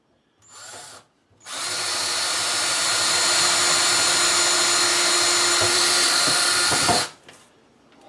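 A power drill bores 5/32 holes into kitchen cabinet trim, with a brief spin-up followed by one loud, steady whine lasting several seconds and winding down, close and alone.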